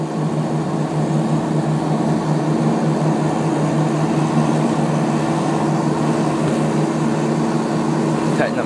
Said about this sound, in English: Take off, here we go.